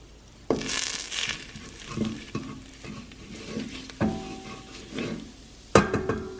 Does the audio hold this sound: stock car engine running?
no